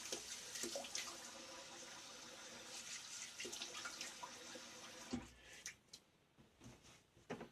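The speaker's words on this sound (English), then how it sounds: "Let me rinse my face again" Sink tap running while a face is rinsed during a wet shave, a faint steady water stream with splashes, dropping to intermittent trickles and drips near the end.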